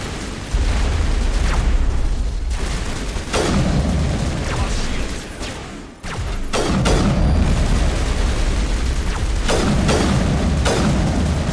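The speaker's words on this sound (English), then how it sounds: "What are you shooting at, buddy?" Loud, repeated booming gunfire and explosive blasts in Mass Effect punctuate a continuous roaring backdrop, arriving in separate heavy bursts spaced a second or two apart.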